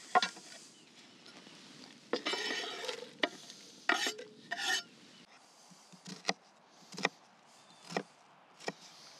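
Chopped onions are dropped into a Dutch oven for Texas chili, bringing bursts of soft rustling and sizzling followed by a series of sharp, spaced knocks and scrapes, close by, with no voices.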